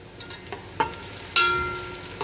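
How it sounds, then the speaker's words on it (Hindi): Sliced onions sizzling and frying in hot oil in a pan for a pea and potato pulao, a steady crackling hiss with a few sharper pops and stirring scrapes, close and loud with no voices. "अब प्याज को गोल्डन ब्राउन होने तक हम इसको करेंगे फ्राई।"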